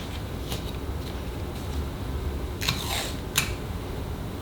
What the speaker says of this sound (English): I'm just looping it around onto itself so it's sticky on both sides, and then sticking it to my background